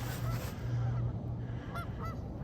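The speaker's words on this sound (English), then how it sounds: "Oh, more geese." Geese honk a few times on a partly frozen lake before sunrise in winter, the calls faint and distant over a steady low outdoor rumble.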